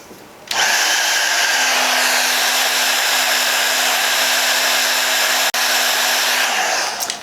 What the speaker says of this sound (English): Let me get my blow dryer.